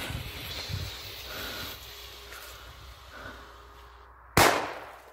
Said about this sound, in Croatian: Sljedeća petarda je tenkovska.